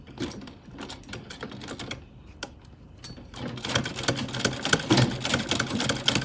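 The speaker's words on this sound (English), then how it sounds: "just place it down, bring down your footer and sew." A sewing machine stitches Ankara fabric for a bustier gown, with sparse light clicks at first, then a denser, louder run of rapid mechanical stitching over the last few seconds.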